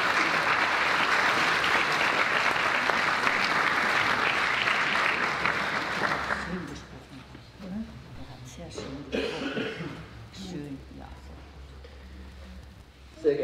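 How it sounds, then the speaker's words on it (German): A church congregation applauds the bishop after his address at a pontifical Mass, a dense sustained wave of clapping that dies away after six seconds into quieter room noise, coughs and shuffling. "Applaus"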